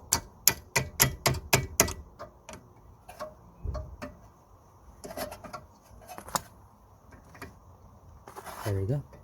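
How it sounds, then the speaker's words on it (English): Metal clicks and taps from a brake caliper retaining clip being fitted on the rear brakes of an Audi A3, a quick burst of sharp ticks followed by sparser knocks and scrapes, close up with no talking. "the way we're gonna fit this clip is like this"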